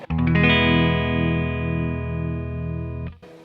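A single electric guitar chord strummed on the neck pickup and left to ring with a warm, bassy tone and a slight distorted shimmer, fading before being muted.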